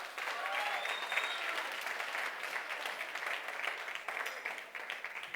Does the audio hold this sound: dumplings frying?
no